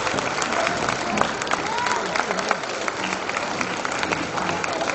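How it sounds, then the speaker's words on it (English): Audience applause for teachers at a school Bal Mela celebration, steady dense clapping from a crowd throughout, fairly loud and even with faint cheering. "Can we give a big round of applause for the teachers?"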